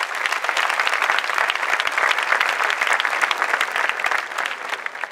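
Sustained audience applause from a live crowd at a Greek stand-up comedy show, dense, steady clapping filling the whole stretch at close range with no pauses.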